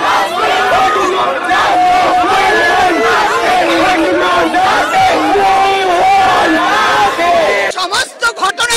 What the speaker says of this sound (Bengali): চিকিৎসক নার্সের মিছিল সিজিও কমপ্লেক্সে পৌঁছলে তা আটকে দেয় পুলিশ, শুরু হয় বিক্ষোভ স্লোগান